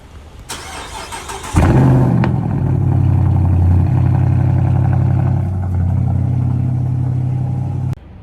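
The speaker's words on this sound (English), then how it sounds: "I'm gonna get right behind that exhaust so I can hear that cold start." A Dodge Charger R/T starts from cold after an initial clatter, its engine catching with a loud burst and settling into a steady, deep, rumbling idle heard close behind the exhaust, with a slight dip midway before cutting off.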